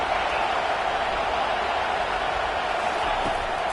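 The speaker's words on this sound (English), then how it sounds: "Decibels rising as the crowd gets behind this defense on 3rd down." A college football stadium crowd roars on third down in a video game, a dense, steady wall of noise that stays loud throughout, with faint speech mixed in.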